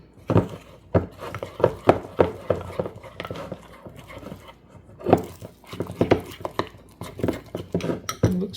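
Biscuit batter of butter and other ingredients is stirred in a cup, a spoon knocking and scraping against the sides in quick irregular clinks and taps, close and fairly clear, with no talk.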